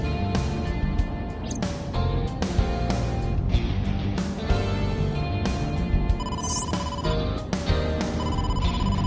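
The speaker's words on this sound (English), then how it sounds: "incoming call from the boss" A phone in a video game rings steadily for an incoming call from the boss, a loud, repeating electronic ringtone with regular pulses filling the whole stretch, with no talk over it.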